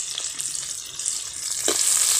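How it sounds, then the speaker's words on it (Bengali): Whole spices and ginger-garlic paste sizzling in hot pure ghee, a steady close frying hiss that swells louder toward the end, with a few soft stirring scrapes and no talk. "একটু কষিয়ে নিচ্ছি, হালকা কেটে ঘিয়ের সঙ্গে"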